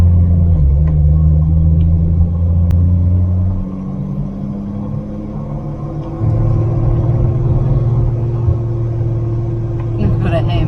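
A 1949 Rover P3 car cruising steadily on a country road, its engine rumbling loud and close, then easing off as it slows behind a slower vintage car, with the drone dropping and returning.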